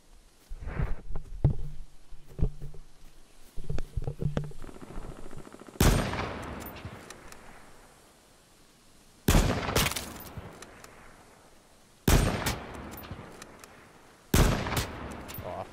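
Gunfire rings out in H1Z1 on PS4: a cluster of quick, faint shots and bursts, then four loud, sharp reports spaced a few seconds apart, each trailing off in a long echoing decay.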